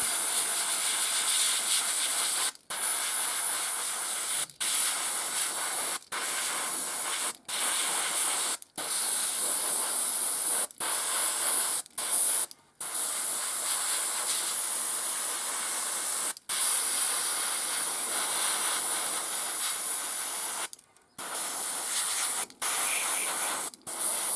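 An airbrush spraying paint onto a model, a loud steady hiss broken into bursts by frequent short pauses, with no talking.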